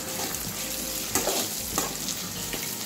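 Egg and poha with potatoes being stirred in a pan, a steady close sizzle under repeated scraping strokes from a spoon, with a few sharper knocks against the pan.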